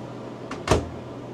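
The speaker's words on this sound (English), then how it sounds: "The door still opens." A cabinet door with magnetic spice racks stuck to its front swings open: a soft click followed by a sharper, louder knock or rattle, brief and close, over a quiet room hum with no talking.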